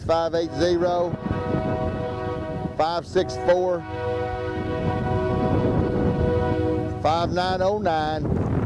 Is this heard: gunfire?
no